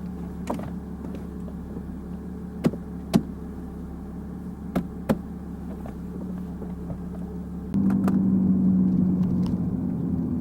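A car engine idles with a steady low rumble and a few sharp clicks, then the revs rise into a louder, fuller drone.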